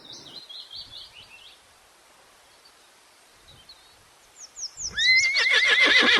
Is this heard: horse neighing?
yes